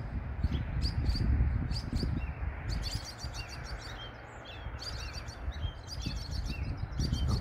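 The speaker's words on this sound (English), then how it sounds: "There's a whole bunch of them and they're all making a huge noise." A dense chorus of robin calls, many birds chirping and chattering at once, loud and continuous over low rumbling background noise.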